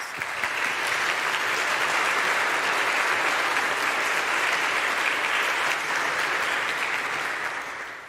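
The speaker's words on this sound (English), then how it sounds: "please give George a round of applause" A parish congregation gives a round of applause at an annual parish meeting: a thick, continuous burst of many hands clapping that rises quickly, holds steady for several seconds and then tapers slightly at the end.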